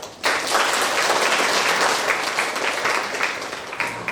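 A conference audience at a Women in Leadership event breaks into loud, full applause after a brief quiet moment, welcoming a speaker to the stage with a sustained, even roar of clapping.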